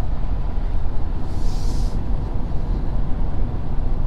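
A 2020 Ford F-350 Platinum pickup with a 10-speed transmission cruises in 10th gear at about 60 mph, giving a loud, steady low road and engine rumble with a brief airy whoosh partway through, heard from inside the cab with no talking.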